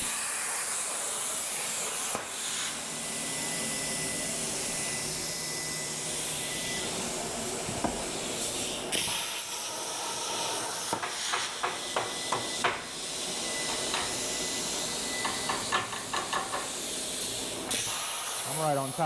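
A plasma torch cuts metal on a Langmuir Crossfire Pro CNC table, giving a continuous loud hiss over a steady machine hum. The hiss is broken by occasional clicks and crackles, and a voice speaks faintly at times.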